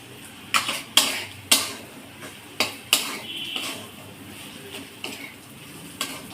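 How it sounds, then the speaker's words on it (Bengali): Bitter gourd and shrimp fry stirred in a pan: a spatula knocks and scrapes against the metal in irregular sharp clacks, with a faint sizzle running underneath. "এই জন্য আমি আর একটু নাড়াচাড়া দিয়ে নেবো"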